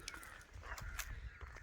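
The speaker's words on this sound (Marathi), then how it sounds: "एकदम म्हणजे कावळ्यांचा गोंगाट चाललेला आहे." Several crows caw repeatedly in the open air near a village dam, fairly distant and quiet, in short overlapping calls.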